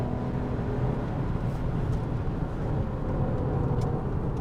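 Porsche Boxster engine drones steadily from inside the cabin while accelerating on the road, a continuous low, dense induction and engine roar that holds an even level throughout, with no voices.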